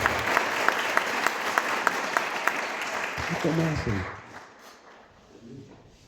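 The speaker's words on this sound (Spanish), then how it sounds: "Demos un aplauso a esta preciosa familia, hermanos, que acaba de bautizar." Church congregation applauding a family after a baptism at a thanksgiving service, with distinct individual claps in the crowd, then the applause fades as a voice speaks over it.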